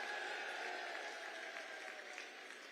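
A large crowd at a public political rally in Jagadhri, Haryana claps steadily and continuously, a dense wash of applause from many hands.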